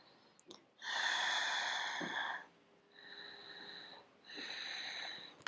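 Breathing during a Pilates exercise: a long, audible breath with a hissing, airy quality, followed by two shorter, softer breaths, close to the microphone with no talk over it.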